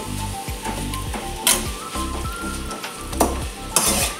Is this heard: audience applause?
no